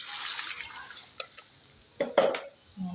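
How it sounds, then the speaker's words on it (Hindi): Half a litre of water is poured into a pot of ash gourd pieces while petha halwa cooks. A soft rushing pour is followed by a few drips and light clinks, close and fairly quiet. "मैं इसके अंदर आधा लीटर पानी डाल दूँगी"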